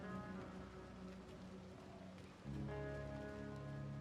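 Steady rain falls in the game Mortal Shell 2, a dense, even hiss of drops that suddenly swells louder and fuller about halfway through.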